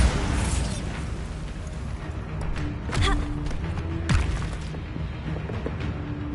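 Bombarda blasting spell from Hogwarts Legacy, a dense rumbling explosion onset followed by several heavy booms and crackling impacts, loud and close against a busy game soundscape.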